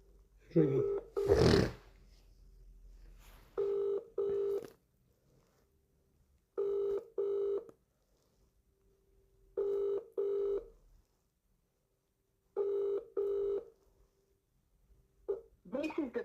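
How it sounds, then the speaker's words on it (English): A mobile phone call rings out in regular double-burst tones, four pairs spaced evenly with silence between, heard through the handset and preceded by a brief voice and a burst of noise. "It's ringing."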